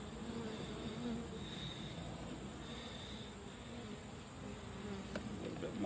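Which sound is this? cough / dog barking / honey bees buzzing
honey bees buzzing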